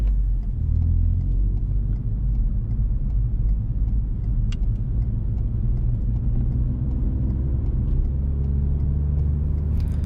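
A car drives around a multi-lane roundabout with traffic lights on a dual carriageway, its engine and tyre rumble steady and close throughout, with no talking.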